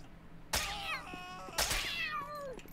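A cat in the Postal 4 video game meows twice, and each call is a clear, close, drawn-out cry with a falling pitch. A brief pause separates the two calls.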